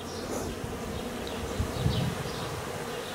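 A honey bee swarm buzzes at a hive, a steady dense hum of many wings with single bees droning past close by.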